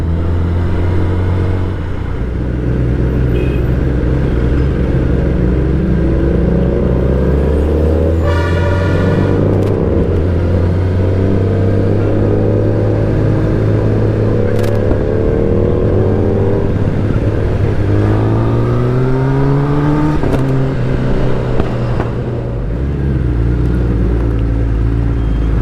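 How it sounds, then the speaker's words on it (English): A Harley-Davidson motorcycle rumbles steadily about a bus length ahead on a highway ride through Tamil Nadu and Kerala, its exhaust note blending with a continuous engine drone, rising revs and a brief horn toot. "the exhaust note of the Harley is quite audible to me"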